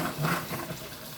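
A salad spinner whirls freshly harvested, washed garden greens, giving a steady, moderately loud whooshing rush of water and air that swells and then evens out, with no talking.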